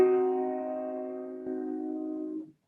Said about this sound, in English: lowered fifth, gives you a diminished triad, which sounds like this.